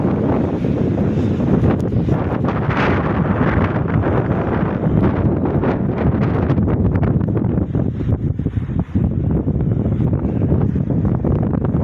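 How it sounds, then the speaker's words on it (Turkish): Strong wind buffets the microphone in a constant loud roar and rumble, with gusts rising and falling throughout. "burada nasıl rüzgar sesi geliyor"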